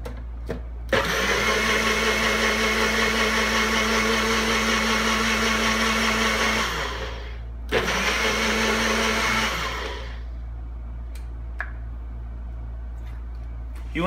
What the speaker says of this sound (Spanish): Igual lo volvemos a licuar.